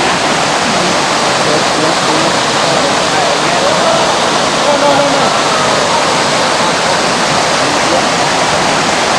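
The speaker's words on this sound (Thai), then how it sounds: "มีน้ำตกแต่จะถ่ายข้างบน" Water pours at Kaeng Krachan waterfall in a loud, constant broadband rush of falling water that fills the whole scene, with faint voices buried underneath.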